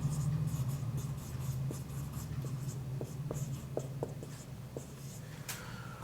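Chalk or a marker taps and scrapes on a board during a tensor analysis lecture, a short series of distinct strokes over a steady low room hum.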